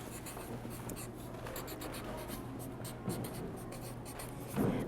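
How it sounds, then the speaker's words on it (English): A pen scratches steadily across a small wooden gift tag for a rosemary plant, a close, continuous scribbling with a faint hum beneath and a brief louder scrape near the end. "on the other side, I'm just going to write Happy Mother's Day"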